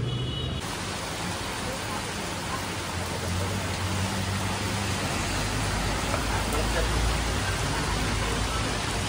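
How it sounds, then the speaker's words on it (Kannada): Steady rain falls in an outdoor setting during the Ganesh festival, a dense, even hiss that stays constant throughout with a low rumble of passing traffic underneath. "ಮಳೆ ಬಂತು."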